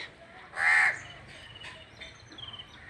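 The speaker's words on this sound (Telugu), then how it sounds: "చాలా కాకులన్నీ చేరి ఇప్పుడు ఇక్కడ కూర్చుని గొడవ గొడవ చేసినాయి" A single loud crow caw rings out nearby, followed by quieter background calls and faint rustling.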